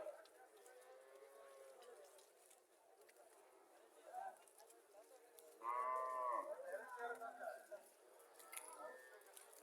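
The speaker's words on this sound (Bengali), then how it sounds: "কালো রঙের গাভি, দেশি গাভি।" A black local dairy cow at a cattle market moos in several drawn-out calls, loudest around the middle, over quiet outdoor background with people talking nearby.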